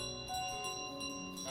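A small bell carried by the goose in Untitled Goose Game gives a faint, sustained ring with a steady tone under quiet game background.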